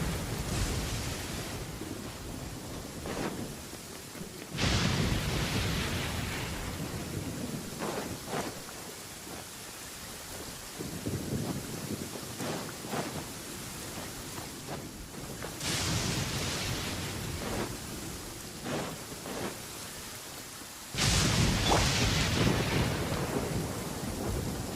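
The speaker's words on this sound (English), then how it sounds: "Many people dread the sound of thunder." Rolling thunderclaps with steady rain in the Genshin Impact video game, three loud booms swelling and fading over a constant wash of rainfall, with no voices.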